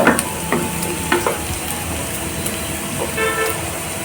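Curry leaves hit hot oil in a pan over a low gas flame, giving a steady crackling sizzle with a few sharp pops at the start and a faint toot in the background.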